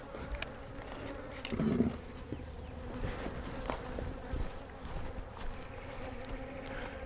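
Honey bees buzz steadily around an open hive during an inspection of a split that had run out of nectar, a dense, continuous insect drone close by with a slightly louder swell near the start and no talking.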